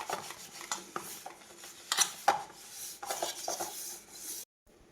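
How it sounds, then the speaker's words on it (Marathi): Ghee being rubbed into a cake tin, with light metallic scraping and clinking of a utensil against the tin in short irregular strokes, close and fairly quiet, then stopping abruptly. "हा केक टीन आहे, तर त्यालाही मी आता हे तूप लावून घेणार आहे"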